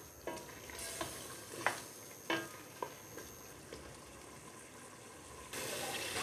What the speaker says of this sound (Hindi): और इसको भी थोड़ा सा मैं भून लूँगी।